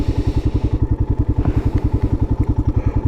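A Royal Enfield Himalayan motorcycle makes a slow ride-by on a mountain road, its single-cylinder engine thumping in a steady, even low beat that stays loud and close throughout.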